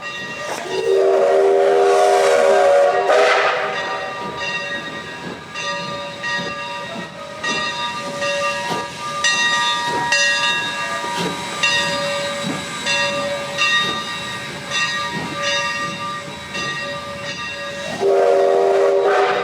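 A train towing about six cabooses at the Western Pacific Railroad Museum, loud and close, with a sustained steam hiss and a long whistle-like horn tone held for most of the run, plus a louder burst near the start and at the end.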